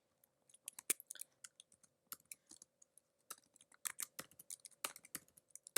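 Typing on a computer keyboard, with irregular bursts of crisp key clicks and taps, close and fairly quiet, with no voices.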